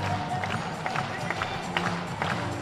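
A sold-out stadium crowd at a Savannah Bananas baseball game against the Party Animals in Jacksonville, Florida, a steady roar of many voices with scattered claps and shouts rising and falling throughout.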